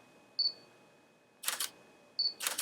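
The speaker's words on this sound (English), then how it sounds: "you can hear it kind of taking pictures" Camera shutter firing in high-speed burst mode, set off by a Pixel Oppilas wireless shutter release: two short bursts of rapid clicks, each after a faint beep, close and fairly quiet with no voices.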